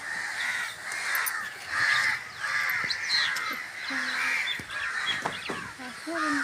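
Crows caw repeatedly across a village soundscape, harsh calls overlapping at moderate distance over steady background ambience, with other birds and faint voices mixed in.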